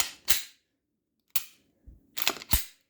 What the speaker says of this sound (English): Maybe test fire it a couple times.